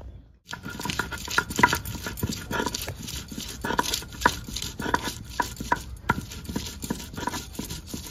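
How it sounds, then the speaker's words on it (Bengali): Repeated rough scraping and knocking of stone on stone as chili is ground on a grinding stone, an irregular grinding rhythm close by, continuing for several seconds without talk. "এবার লঙ্কাটা কিন্তু আমি এখানেই বেটে নেবো"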